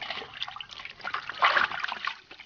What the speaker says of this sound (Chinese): 羊肉给洗一下